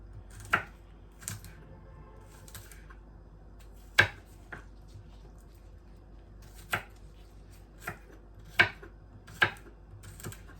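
A knife cuts ingredients for Jamaican brown stew fish on a board, with irregular, sharp single chops spaced a second or so apart against a quiet kitchen background.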